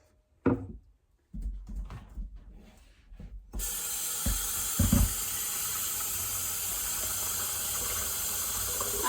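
Steady running well water pours continuously, like a tap filling a pot, after a few soft clanks and handling noises at the start.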